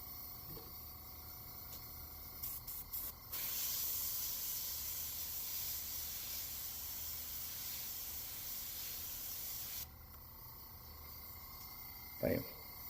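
An airbrush sprays golden carbon black paint through a stencil onto a Livingston lure, a soft steady hiss lasting several seconds, with brief bursts before and a small knock near the end.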